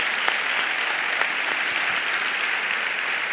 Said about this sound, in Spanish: aplaudirles. Claro que sí.